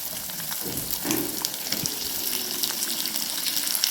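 Cut potato pieces hit hot oil in a pan and fry with a steady watery sizzle and crackle over low heat, continuous and close, with no voices.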